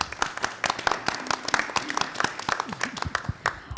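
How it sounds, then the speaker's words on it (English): An audience at a city council candidate forum gives a short burst of scattered clapping, moderately loud, with a little background murmur under it. "So give her a round of applause."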